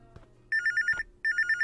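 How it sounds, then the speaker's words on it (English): Telephone ringing in the video game I Am Here, two bursts of rapid electronic trilling rings separated by a short pause, clear and close against faint background hum. "Answer the phone."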